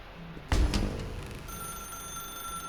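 A telephone rings in a video game, a thin steady electronic tone sounding after a thumping bump, moderately loud with a humming background and no talk.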